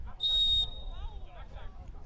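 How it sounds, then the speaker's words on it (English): Sharp referee whistle blast in a men's college soccer match, one sustained shrill tone lasting about half a second, followed by a commentator talking over faint crowd noise. "Whistle blowing that play dead"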